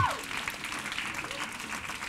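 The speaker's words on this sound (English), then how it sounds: "you're supposed to clap now." Audience clapping at a talk, a steady wash of applause from a crowd that holds at an even level for a couple of seconds.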